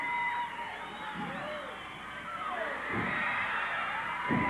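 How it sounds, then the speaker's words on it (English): Wrestling crowd roaring and cheering at a Portland match while a tag-team bout unfolds, a steady wash of noise with swelling shouts, under a commentator's voice. "And the crowd picking it up."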